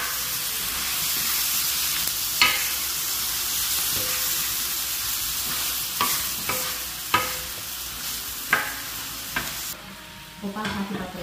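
A sauté sizzles steadily in a pot on a wood-burning stove on a rural farm, a continuous loud frying hiss broken by occasional clicks and stirring knocks.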